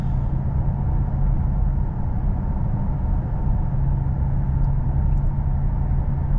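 Inside an automatic car being manually shifted, cruising in fifth gear at 28 mph: a steady low engine drone and road rumble, constant and even throughout with no talking.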